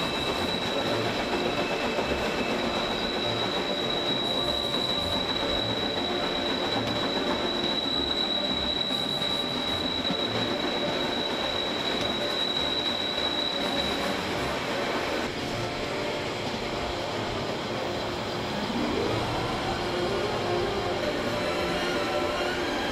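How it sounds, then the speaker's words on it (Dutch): A steam narrow-gauge train runs through flat country in the Harz, Germany, with a continuous rumble and clatter of wheels on rails, a thin high squeal holding for a long stretch before fading. "De trein gaat enkele tientallen kilometers door vlak land tot aan het station Draai"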